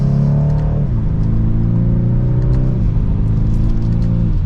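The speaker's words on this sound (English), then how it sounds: "there is going to be some fake exhaust noise pumped in when you have that on" A BMW 230i xDrive M Sport accelerates hard in sport mode in second gear, with synthetic exhaust sound piped into the cabin. The engine note rises steadily, drops at an upshift, then climbs again, loud and close, with no talk.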